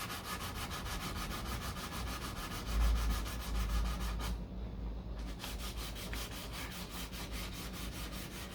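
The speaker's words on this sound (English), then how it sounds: "come in with your sandpaper and flatten it" 400-grit sandpaper scrubs filler primer on the deck lid of a 1969 C3 Corvette, a steady rhythmic rasp of back-and-forth strokes, close and fairly quiet, with a short pause midway.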